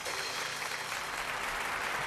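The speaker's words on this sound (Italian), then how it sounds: "gli amici del circo al quale facciamo un grande applauso" A circus audience claps in a dense, steady wash of applause that holds at an even level throughout.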